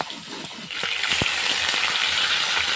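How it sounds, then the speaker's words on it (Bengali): A piece of katla fish frying in oil in a pan gives a steady, bright hiss of sizzling that swells slightly after the first second, close and continuous, with a faint clink near the middle. "মাছটাও ভেজে নিচ্ছি।"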